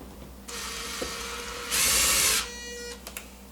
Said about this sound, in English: if you're using a power screwdriver, go nice and slow